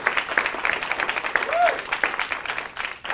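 A conference audience at a movement event gives a round of applause, brisk clapping that swells and fades over a few seconds while voices carry through it.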